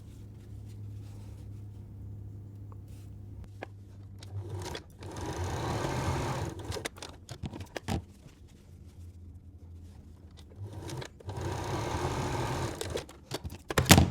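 Sewing machine stitching the long seams of a patchwork quilt block, two close bursts of rapid whirring separated by quiet handling pauses, with a low hum at the start.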